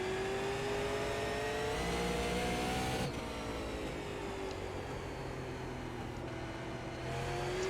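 A super late model race car engine in iRacing, a high revving whine that climbs through the gears, drops on a shift and builds again, loud and close with no talking.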